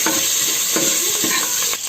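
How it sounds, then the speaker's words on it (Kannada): Sliced onion, cumin and curry leaves frying in a tempering pan give a steady, close sizzle, with repeated scraping stirs of a spatula against the pan. "ಸ್ವಲ್ಪ ಫ್ರೈ ಮಾಡ್ಕೊಳ್ಳಿ"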